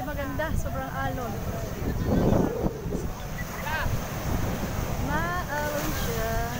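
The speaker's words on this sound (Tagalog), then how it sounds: "Alon, mga hindi maganda. Sobrang alon." Strong surf rolls in at a beach in San Felipe, Zambales, a continuous rushing wash mixed with gusty wind buffeting the microphone, while people talk nearby over it throughout.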